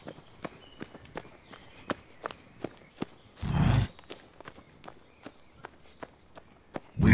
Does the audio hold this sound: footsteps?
yes